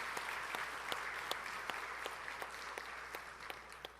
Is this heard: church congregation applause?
yes